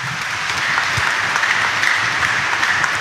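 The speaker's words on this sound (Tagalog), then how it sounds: "mas malakas ang palakpak natin." Congregation applause during a Sunday mass at a church, a dense, steady roar of clapping from a large crowd that fills the space evenly throughout.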